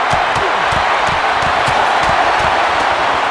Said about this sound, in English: this crowd is hot